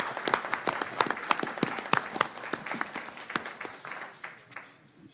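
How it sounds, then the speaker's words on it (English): Applause from the audience at a county board of supervisors meeting, a steady burst of many hands clapping for several seconds that thins and fades toward the end. "Now you can clap."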